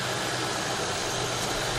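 A Buick Enclave engine idles with a steady broadband whir and hum, its AC compressor clutch with bad bearings spinning even though the AC is off, a constant close mechanical drone with no talking.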